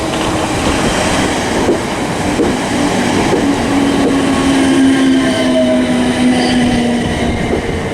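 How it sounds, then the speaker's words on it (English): Class 455 electric multiple unit on a Woking to London Waterloo service arriving at Weybridge station on the South Western Main Line, a loud continuous rumble of wheels and motors with a faint brake squeal, close and steady. "Got a Woking to London Waterloo service arriving in as well"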